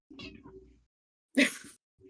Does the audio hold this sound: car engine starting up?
no